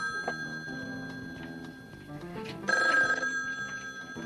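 A telephone bell rings in a TV drama scene, a bright metallic trill that swells louder partway through over a soft musical background.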